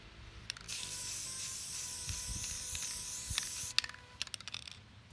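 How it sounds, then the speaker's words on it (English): Aerosol crystal clear sealant hisses in one long, sustained burst over a prosthetic mold. It stops abruptly and is followed by a few sharp clicks and taps, close and moderately loud. "I've applied about 4 coats of the crystal clear"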